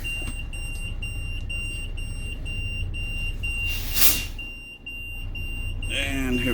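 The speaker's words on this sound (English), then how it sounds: "The tag axle keeps beeping." A steady high-pitched warning beep from a bus's tag axle repeats over the low rumble of the running bus, with a brief louder hiss midway and a person speaking near the end.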